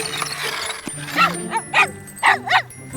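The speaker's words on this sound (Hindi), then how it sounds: "टॉर्च, बदमाश कुत्ता" In a children's firefighter cartoon with trucks and animals, an animated dog gives a series of short yips and barks in quick succession, some spaced and some paired, over background music and brief speech.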